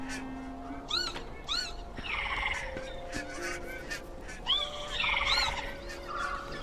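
A newly hatched little bird in the video game Broken Age chirps and squawks repeatedly, a lively string of bright, warbling calls over a faint electronic hum, with no talking.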